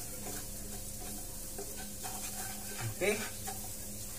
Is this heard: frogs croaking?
no